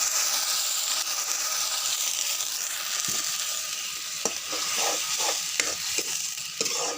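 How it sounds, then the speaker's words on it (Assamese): Onions softening in a pan with meat masala and a splash of water give off a steady, close sizzle and hiss, broken by several scraping stirs. "এতিয়া অকণমান পানী দি দিছোঁ পিঁয়াজখিনি গলিব গলি যোৱাকৈ"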